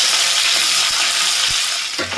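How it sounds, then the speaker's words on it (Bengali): Continuous bright frying hiss from boiled potatoes cooking in hot oil, with a few soft knocks and stirring scrapes toward the end. "আলুটা একটু ভাজা ভাজা করে নেব তেলের মধ্যে দিয়ে।"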